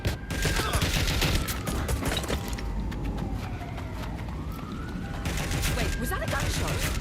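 Bursts of rapid gunfire from the video game Watch Dogs Legion, loud overlapping volleys at the start and end with a siren-like wail and street traffic running through the middle.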